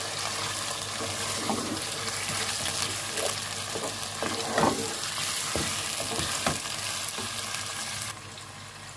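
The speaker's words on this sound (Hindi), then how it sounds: "चिकन को अच्छे से फ्राई कर लेंगे।" Chicken pieces fry in a pan for a cauliflower-and-meat curry, giving a steady close sizzle broken by scraping stir clatter. The sizzle drops quieter at the end.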